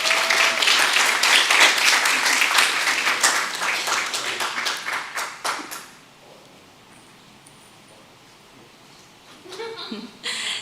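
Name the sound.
audience applause at school board meeting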